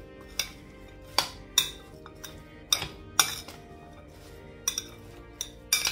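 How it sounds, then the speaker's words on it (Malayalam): Cut mango pieces being mixed with about two teaspoons of salt in a bowl for Kerala sadhya mango pickle, giving a series of sharp clinks and taps of utensil against dish at an irregular pace, fairly close and with no talk. "എന്നിട്ട് നന്നായി മിക്സ് ചെയ്ത് കൊടുക്കുക."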